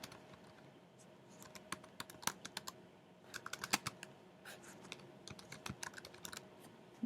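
Quiet typing on a computer keyboard, irregular bursts of light key clicks with short pauses between runs, close and alone with no voices.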